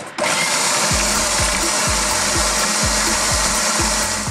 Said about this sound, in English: Lid goes on, gonna give it a whiz for like literally 30 seconds.